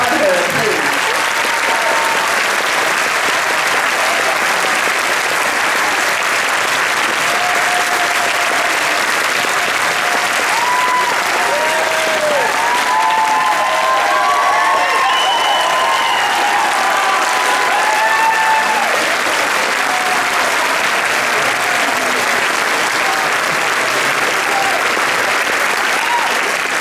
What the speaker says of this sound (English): So applaud her, please.